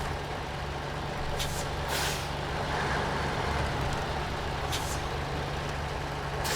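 Air brakes on a truck in SnowRunner let out a couple of brief bright hisses as the trailer uncouples, over a steady low diesel idle drone.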